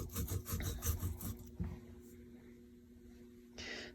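Fresh ginger is grated by hand, giving quick, rhythmic scraping strokes up close, then a pause with faint rubbing and a brief final scrape, all fairly quiet.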